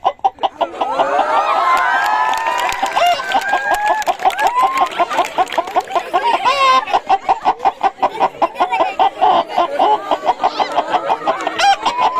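A person imitates a hen with the voice, giving rapid, repeated clucking calls in a steady stuttering rhythm, loud and close throughout.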